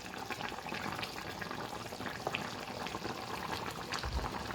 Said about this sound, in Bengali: প্রায় আমার কারিটা হয়ে এসেছে, বলক ফুটে গেছে।